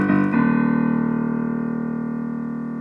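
The opening motif of Beethoven's Fifth Symphony, three repeated short notes and a long held lower note, played on a steady sustained instrument that slowly fades.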